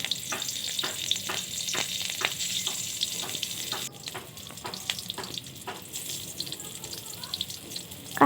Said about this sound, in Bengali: তেলটা গরম হয়ে আসার পর আমরা দিয়ে দেব কাঁচা লঙ্কা।